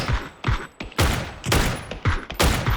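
Loud bursts of automatic gunfire from PUBG come in several close, heavy volleys separated by short pauses. No voices can be heard.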